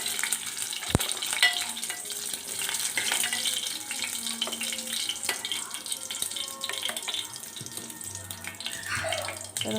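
Eggs frying in oil produce a continuous sizzle, fairly quiet and close, with a sharp knock near the start and faint scraping stirs throughout.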